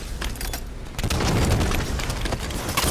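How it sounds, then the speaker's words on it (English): Grenade blasts in the Halo 5 video game, a burst of booming explosions with crackling debris after a brief quiet start, loud and sustained for a couple of seconds. "I'm tossing my nades"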